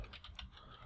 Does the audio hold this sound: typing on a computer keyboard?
yes